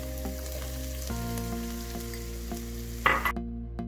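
Capsicum and the white part of spring onion sauté in a hot pan for chilli chicken, a close, steady sizzle with light clinks of a spatula and a brief louder stir just before it ends.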